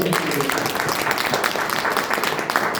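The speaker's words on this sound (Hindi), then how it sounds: "एक बार तालियां।" Audience applause at a public talk, a dense, steady wash of many hands clapping, loud and close, lasting a few seconds with no voices over it.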